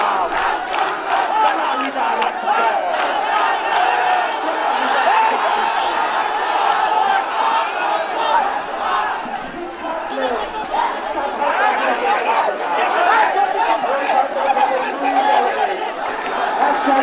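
Student activists at a Rajshahi University campus protest over the student union election chant slogans as a crowd, a loud, continuous rhythmic roar of many voices with shouted call-and-response lines throughout.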